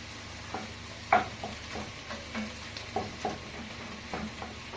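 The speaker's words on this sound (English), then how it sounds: "So now the meat is cooking in all areas." Meat and onion fry in a pan, a soft steady sizzle broken by scattered scrapes and clinks as the mixture is stirred, close and fairly quiet with no talking.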